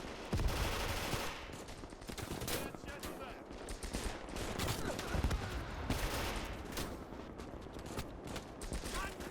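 Dense, continuous gunfire from rifles and machine guns in a Stalingrad close-quarters battle in Gates of Hell, with rapid overlapping shots and bursts throughout, loud and near with some more distant fire.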